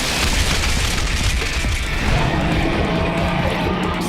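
A magical rock shot slams into its target in an anime battle, a dense rumbling crash with sustained debris and booming noise that stays loud throughout, without any speech.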